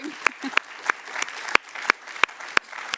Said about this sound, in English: I wanted to give an opportunity for everyone to clap for Selma as well